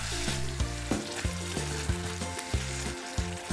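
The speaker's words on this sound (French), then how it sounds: "n'oubliez pas de mélanger très vite, car sinon vous allez vous retrouver avec un amas de fécule de pommes de terre" Potato-starch-thickened sauce is stirred in a sizzling pan for a bitter melon, beef and black bean dish. A steady frying hiss is broken by regular scraping strokes about every half second, close by, with no speech.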